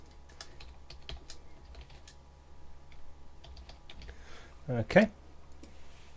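A username is typed on a computer keyboard as irregular, fairly quiet key clicks spread across several seconds, with a brief spoken word near the end.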